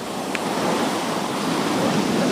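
Waves roll onto Arahama beach, a shallow white-sand swimming beach at Ogatsu, Ishinomaki, Miyagi, as a steady broad wash of surf with wind, continuous and fairly loud with no voices.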